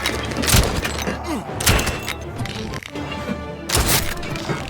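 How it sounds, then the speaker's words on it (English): An exploding barrel blowing up in the VR video game Sail VR, three sharp cracking blasts spaced about a second apart over a busy game soundtrack, loud and close. "there's the one of the exploding barrel."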